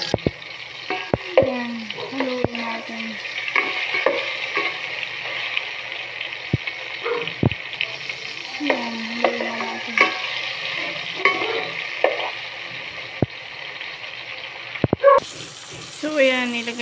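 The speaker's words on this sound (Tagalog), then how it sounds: "ginisa na natin yung kamatis" Tomato, ginger and onion sautéing in a pan for sinigang sa miso, a close sizzle broken by stirring clatter and scrapes, with a voice talking over parts of it.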